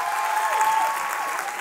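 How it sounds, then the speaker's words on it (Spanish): Live studio audience applause at a talk show, a dense burst of clapping that runs loud and steady from start to finish with no gaps. "fuerte el aplauso, Raycon, huevón"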